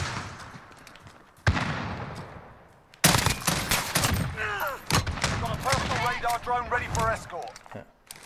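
A FAMAS rifle fires in Call of Duty Modern Warfare: a sharp shot, then a second loud report with a rattling tail, followed by continuing game noise and a voice talking over it.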